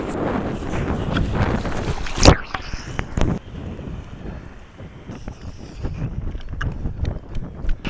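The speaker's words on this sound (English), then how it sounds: "Wind picked it up quite strong." Strong wind buffets a microphone outdoors near water, a loud steady rumbling roar with gusts and one sharp bump, easing slightly partway through but continuing throughout.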